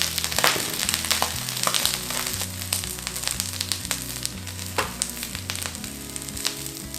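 Eggplant pan-frying in a covered pan for a vegan Japanese-style dish gives a steady, dense sizzle with scattered sharp crackles and pops throughout, close and fairly loud, over a low tonal backing.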